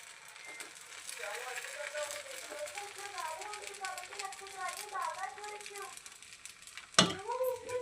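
Corn dosa batter sizzles on a hot pan, a steady crackling fry with a sharp clatter near the end, while someone talks throughout.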